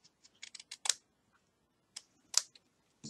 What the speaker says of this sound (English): I'm going to take some scissors and just trim this.